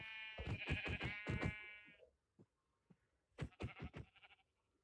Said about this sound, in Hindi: जल्दी चल, बकरियों को मारना है।